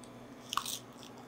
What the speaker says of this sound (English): If you hear the sound of a crunchy seaweed, that means you did a good job.